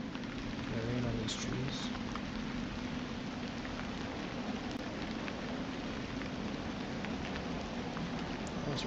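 Rain patters steadily on trees in the video game Ateul, a continuous soft wash of drops with faint pings, even and moderately quiet throughout.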